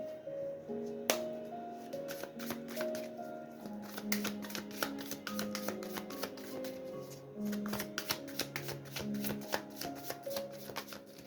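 Tarot cards are shuffled in a steady run of crisp riffles and flicks throughout, layered over soft sustained background music tones.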